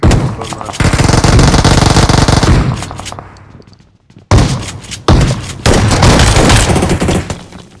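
Rapid automatic gunfire in the mobile battle-royale game PUBG Mobile, loud and close, with sustained bursts broken by short pauses and a sharp restart, heard alone without talk.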